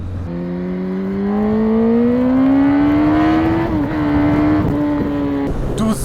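A 2006 Yamaha R1 motorcycle engine on a test ride drones loudly and close, pitch climbing steadily as it accelerates, then holding before a brief drop near the end.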